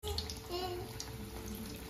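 A tap runs steadily to wash a child's hands after making evening snacks. The water stream is faint and continuous, with soft voices in the background.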